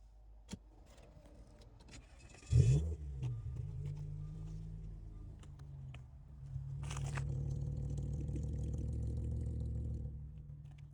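A 2014 Audi SQ5 with an APR Stage 2 tuned 3.0 petrol engine starts with a sharp burst, then idles with a steady low rumble that swells louder and fuller midway, close and with no talk.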